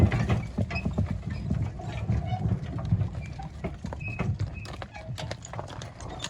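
Trained working mares walk along a muddy village road in Tysmenychany, Ivano-Frankivsk region, their hooves clip-clopping in a steady, overlapping rhythm against rustling outdoor noise.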